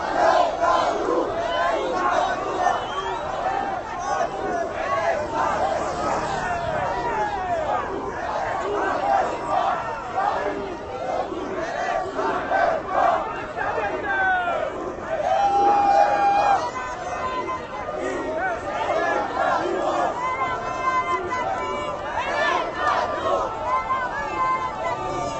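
A protest crowd at Place de la République in Paris chants and cheers loudly and without pause, a dense mass of voices filling the whole stretch.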